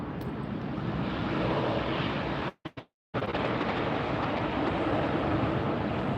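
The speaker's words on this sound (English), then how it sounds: "Sunwing was the orange and white one that just landed." A Sunwing airliner landing at LAX produces a steady broad roar of engine and rushing noise, briefly cut off by a short gap before resuming at the same level.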